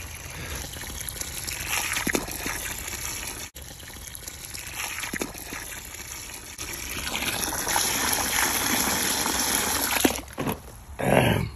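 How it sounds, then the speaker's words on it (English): Water poured into a grow tower, a steady close gushing and trickling stream lasting several seconds with brief breaks and a louder splash near the end. "I'm gonna pour some more water in here, so I can have this water keep going faster."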